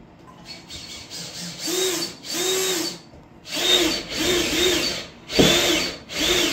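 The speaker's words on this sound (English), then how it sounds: "So now we are going to drill a hole to see if they are insulated" A power drill bores a hole into a basement wall to check for insulation, sounding in several bursts of whining, grinding revving separated by short pauses, close and fairly loud.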